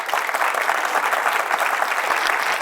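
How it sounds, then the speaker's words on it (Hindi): Studio audience applause greeting a guest on a Hindi TV news debate show, a dense, steady wash of clapping from a large crowd, loud and continuous throughout with no talk over it. "तालियों के साथ स्वागत कीजिए उनका"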